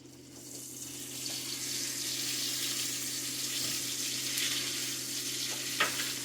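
A bean and cheese empanada frying in hot grease gives a steady, soft sizzle and bubbling hiss up close, with a brief faint clink near the end and no voices.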